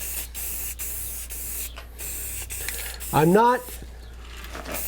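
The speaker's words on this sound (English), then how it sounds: "I use a combination of the stiff bristle brush and my air compressor and blow it out really good" An air compressor nozzle blows dust out of a freehand-carved redwood sign, a steady broadband hiss running close and continuous throughout, with a few short pulses and a brief spoken word partway through.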